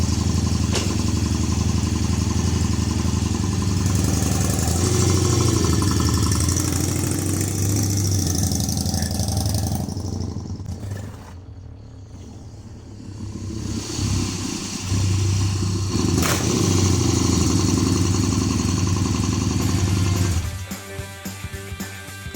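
A motorcycle runs after a first oil flush and a clean-out of its slipping clutch. It idles loudly up close, then revs and rides off around an island. The engine fades for a few seconds, then returns loud and steady before rough idling.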